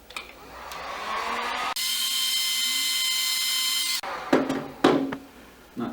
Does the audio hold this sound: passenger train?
no